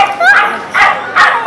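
Small puppy giving three high yipping barks in quick succession, close and loud, with a whimpering edge, in a mall setting.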